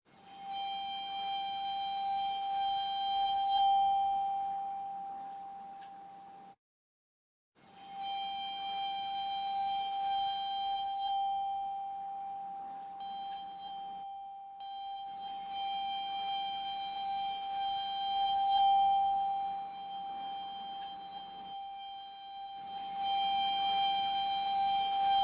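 Sparkling glockenspiel-like metallic tones ring out in a wash of reverb, with echoing repeats trailing behind, pausing briefly before returning; no voices.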